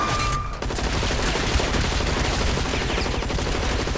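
Gunfire rattles continuously in the online shooter game Hazard Ops, a dense barrage of rapid shots and explosions packed tightly together at high volume throughout.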